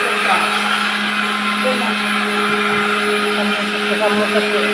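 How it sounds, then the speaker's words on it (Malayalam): Mixer grinder grinding coconut, a loud steady motor whir that runs close and unbroken the whole time, with no speech over it. "തേങ്ങ അരക്കണം കേട്ടോ"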